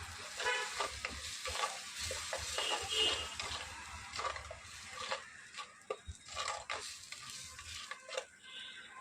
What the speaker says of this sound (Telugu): ఇలా కలుపుకున్న తర్వాత టమాటా పేస్ట్ చేసుకున్నాను కదా, అది వేసేస్తాను.